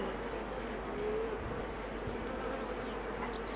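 Honey bees swarm and buzz around an open beehive, a steady soft insect hum with a few individual bees droning closer by and no talking.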